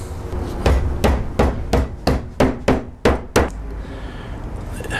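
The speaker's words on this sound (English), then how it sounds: "Where's my hammer?" A hammer strikes a freshly sewn leather-bound book during bookbinding, about nine sharp, evenly spaced blows landing close by in quick succession before stopping.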